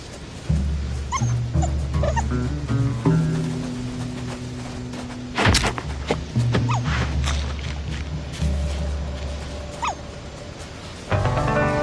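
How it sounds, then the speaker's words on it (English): Badger cubs calling in the video game Shelter, a series of close, high whimpering yips and squeals scattered over a soft game backdrop. "I can't tell if they make that sound because they're hungry or if they're just making that sound because they're badgers"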